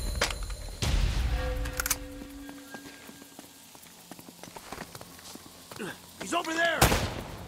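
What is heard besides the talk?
gunfire from enemies in the video game Uncharted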